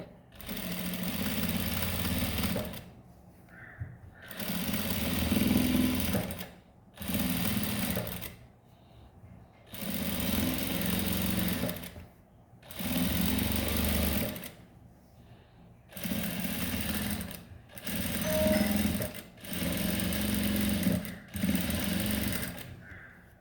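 A sewing machine stitches a blouse in repeated bursts of rapid whirring, each lasting a couple of seconds and separated by short pauses, loud and close with no talking.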